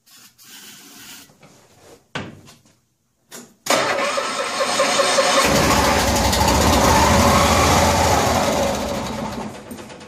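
The engine of a 1974 Cushman Truckster Haulster utility truck cranks in short, halting attempts during a cold start with a gap of silence, then catches and roars into a loud, steady idle close by.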